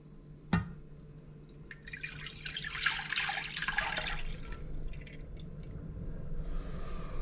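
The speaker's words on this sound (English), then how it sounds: "And then I'm going to pour it into a pan to freeze." Lemon granita mixture poured into a loaf pan, a soft continuous trickling splash lasting a few seconds after a brief knock, fairly quiet and close.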